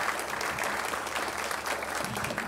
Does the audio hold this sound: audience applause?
yes